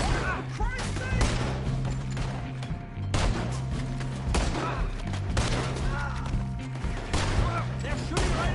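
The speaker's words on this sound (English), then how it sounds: "They're shooting right at me." Gunfire in the video game Red Dead Redemption 2 comes as rapid, repeated shots over a loud, dense background of action. The bursts crackle continuously across the whole stretch.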